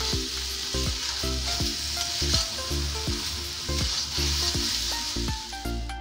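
Papaya, soybean and potato curry with spices frying in a pan, giving a steady, close sizzle and hiss throughout, partly under loud background music with no talking.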